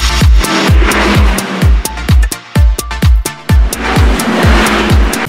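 Car wheels spinning with the engine revving hard, a rapid series of loud punchy bursts and drops in a steady rhythm, close and dominant throughout, with no talk.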